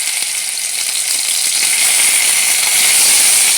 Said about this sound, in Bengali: এবার আমি সবজিগুলো দিয়ে দেব।